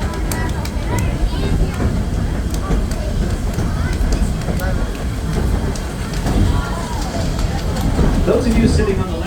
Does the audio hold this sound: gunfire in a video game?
no